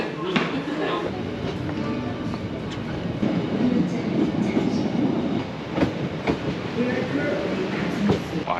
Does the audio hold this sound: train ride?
yes